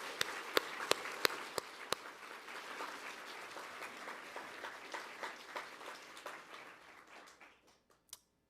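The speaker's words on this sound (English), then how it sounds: "Can we give them a big round of applause," Applause from an awards ceremony audience, honoring the judges, opens with a few sharp, loud individual claps, then settles into steady, dense clapping that fades out near the end, with one last clap.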